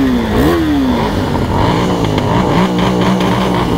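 A KTM RC 390 GP Edition motorcycle engine revs loud and close, its pitch sweeping up and dropping back in quick throttle blips over a steady rumble, with no voices.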